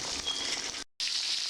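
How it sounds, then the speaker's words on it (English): Steady hissing sizzle of pork chops frying in a hot pan on medium-high heat, close and continuous, with a brief cut in the middle before it resumes. "This is frying on medium high"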